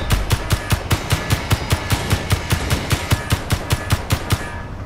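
Pirate ship gunfire in the space game Space Engineers: a loud, rapid, evenly spaced stream of automatic shots, roughly four per second, hammering on without pause.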